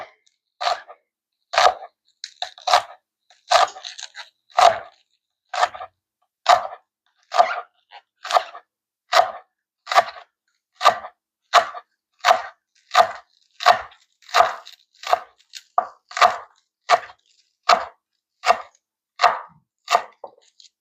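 A knife slices green onions on a cutting board with about two dozen crisp, evenly spaced chops at a steady rhythm, loud and close, with no talk between them.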